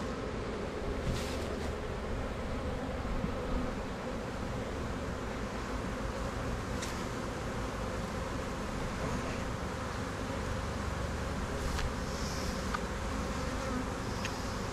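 A honeybee swarm hums steadily and densely around a tree, a continuous close buzz of many insects that holds its level throughout, with occasional louder passes of individual bees nearby.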